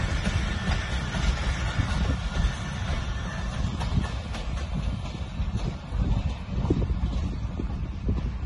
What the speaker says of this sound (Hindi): ये खूबसूरत एक्शन, खूबसूरत एंट्री कोहाट एक्सप्रेस की गोरला रेलवे स्टेशन पे